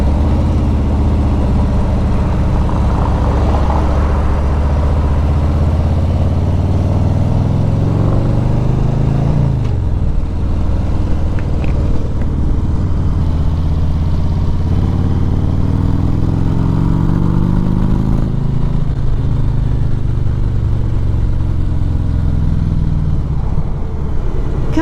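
A 2018 Harley-Davidson Road King Special motorcycle's V-twin engine runs loud and steady throughout, with the rumble rising and falling as the rider revs and shifts through gears on the move.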